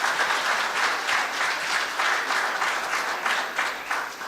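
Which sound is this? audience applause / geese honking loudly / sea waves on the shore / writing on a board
audience applause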